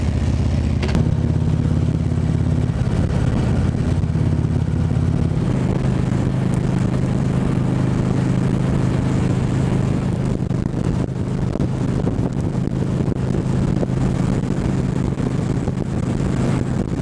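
A motorcycle on a long-distance ride pulls away from a road construction stop, its engine rising from idle into a steady loud drone mixed with heavy wind rush on the microphone.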